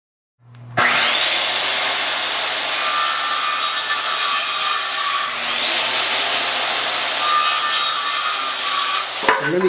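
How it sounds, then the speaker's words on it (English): A wooden board sawn at a 15-degree angle for a pie toss frame, a loud continuous power-saw whine with two long cutting passes, close and with no talk. "So we're going to cut it 15 degrees here."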